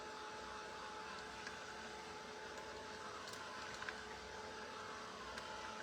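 A dryer blows steadily over wax freshly applied to a scrap wood sign, a continuous airy whir that holds an even, fairly loud level without pause.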